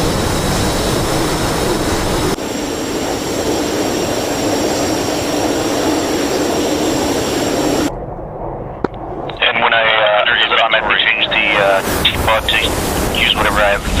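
Twin jet engines of an F/A-18 Hornet spool at takeoff in the DCS World flight simulator, a steady loud broadband roar that shifts partway through and gives way to bursts of radio-style chatter near the end.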